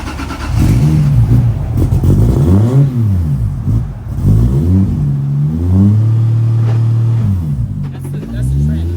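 A widebody RWB Porsche 993 Speedster revs hard through third gear, its engine note climbing and dropping in repeated surges, loud and close, while people talk excitedly over it.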